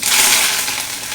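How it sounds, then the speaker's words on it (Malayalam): Curry leaves hit hot oil in a kadai just after mustard seeds have spluttered, giving a loud, dense frying crackle that sustains for the whole moment and eases slightly toward the end, with no talking. "കടുക് പൊട്ടിക്കഴിഞ്ഞ് വേപ്പില ഇടുക."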